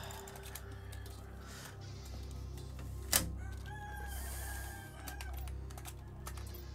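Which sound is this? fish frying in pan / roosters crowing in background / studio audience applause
roosters crowing in background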